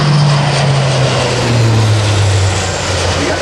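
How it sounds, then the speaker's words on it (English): A Lockheed C-130J-30 Hercules runs its propeller engines at a 2010 Rhode Island Air National Guard airshow, giving a loud, continuous drone with a low hum that slowly drops in pitch as the aircraft passes. "The other thing you'll notice is how quiet the airplane is."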